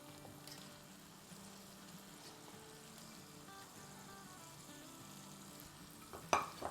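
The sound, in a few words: mutton keema added to hot oil, frying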